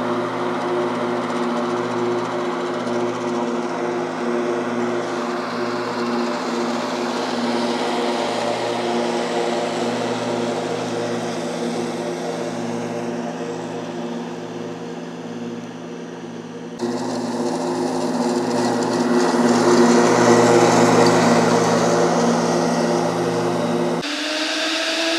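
A zero-turn mower engine runs steadily throughout while mowing, a loud continuous drone that holds even, then swells slightly louder partway through.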